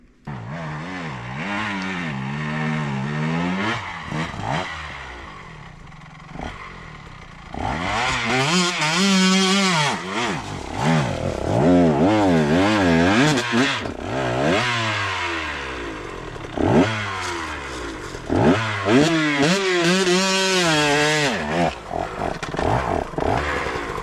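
KTM 125XC two-stroke dirt bike ridden hard at night, engine revving up and down in repeated surges, loud and close throughout with brief dips between pulls.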